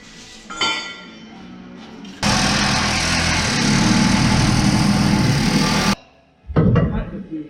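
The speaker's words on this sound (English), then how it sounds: "Who says you can't fix stuff with a Sawzall?" A Sawzall reciprocating saw cuts into a vehicle transmission, a loud, continuous buzzing rasp of about four seconds between quieter handling noises and metallic clinks.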